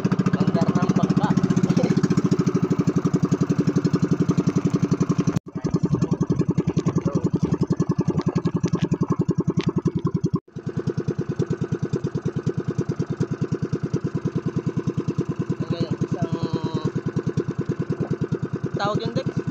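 A small fishing boat's motor runs loud and steady with a rapid, continuous mechanical chug, briefly cutting out twice before resuming, while voices speak faintly beneath it.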